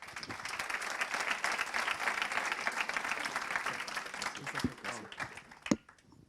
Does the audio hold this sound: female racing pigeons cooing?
no